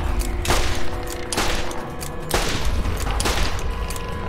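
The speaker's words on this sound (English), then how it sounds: "doing my pistol, what did I call it, pistol trick or whatever, revolver reload trick" Revolver fire in the video game Borderlands, a loud, dense volley of shots with sharp blasts recurring roughly once a second over a constant roar of gunfire, no talking.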